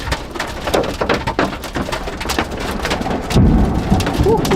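Heavy rain pours steadily on surfaces during a supercell thunderstorm in central Oregon, with rumbling thunder from nearby cloud-to-ground lightning rolling underneath, loud and continuous and without talk.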